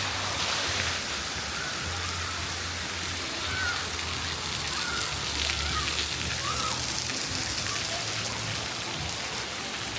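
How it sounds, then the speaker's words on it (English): Water sprays and small waterfalls splash steadily in a resort pool splash pad area, making a constant rushing hiss with no breaks, while faint distant sounds and low hum sit beneath. "loads of nice little sprays and waterfalls"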